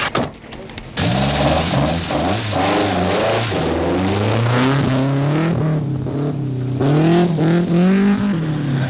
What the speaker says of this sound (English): As Aaltonen roared away, Harry Schallstrom arrived for service.